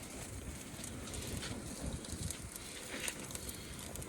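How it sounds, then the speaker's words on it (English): A steak sears over open flames on a GrillStream Island 6 gas grill, giving a steady, close hiss and roar of fire with faint crackling throughout and no talking. "So as you can see there's some flames just raising up now. That's obviously as the steak is searing."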